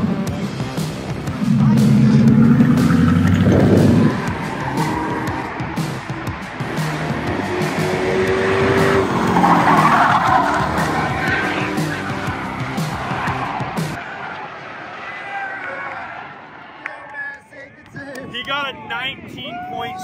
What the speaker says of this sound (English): We're gonna throw a couple of test laps in right now in this beauty right here.